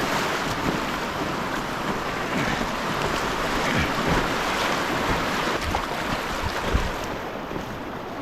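River water rushing and splashing through a riffle around a kayak on the Malheur River, a steady close broadband wash with wind noise and no talking.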